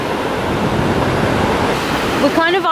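Ocean waves wash around a swimmer at Dee Why beach in Sydney, a continuous close, loud hissing surge of water that fills the clip, with a brief voice-like sound near the end.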